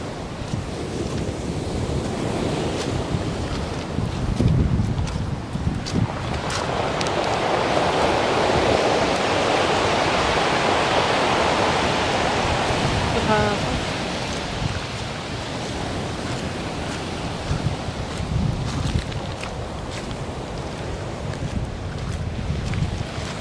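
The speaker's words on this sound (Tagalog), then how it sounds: "Lumalakas yung alon eh." Strong ocean waves surging and breaking at Red Rocks Reserve in New Zealand, a continuous loud roar of surf mixed with wind buffeting the microphone, swelling through the middle and easing slightly toward the end, with no talking.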